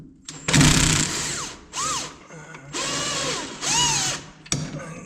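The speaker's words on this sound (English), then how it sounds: "next we're going to remove this lower shock bolt, and that is going to be a 17. Use our impact" An impact wrench works loose a 17 mm lower shock bolt on a Kawasaki KRX side-by-side, firing in several short, loud bursts with whining spin-ups and pauses between them, close by with no talking.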